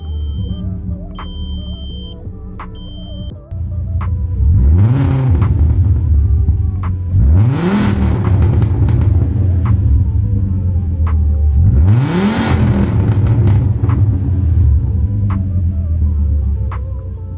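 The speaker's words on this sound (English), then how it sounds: "it would be a shame not to start this car up and hear how it sounds." An ABT-tuned VW Bora VR5 idles with a steady low hum, fires up, then revs sharply three times, each blip swelling loudly before settling back to a rumbling idle, close and without talk.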